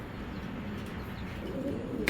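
Pigeons of a Bezi and Pankhi cross coo softly and low in a steady murmur, faint, with no talk.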